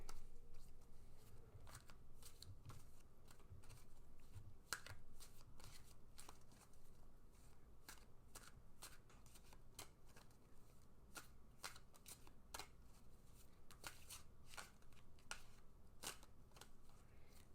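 Tarot cards are shuffled for a long stretch, a steady run of soft riffling and crisp card snaps at an irregular pace, quiet and close with no voice over it.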